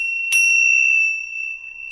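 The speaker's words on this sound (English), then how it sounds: "I've got some bells, so I'll be ringing the bells" A single meditation bell is struck once near the start, then rings on as a clear, steady, sustained tone that slowly fades, alone in a quiet room.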